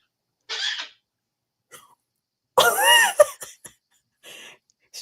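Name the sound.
pet bird coughing sympathetically, imitating owner's cough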